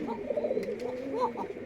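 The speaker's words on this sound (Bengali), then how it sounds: "যেটা ডাকছে আর গলাটা একটু মোটা" A pigeon cooing nearby in a deep, throaty voice, a couple of soft rolling coos over faint background noise, with no one speaking.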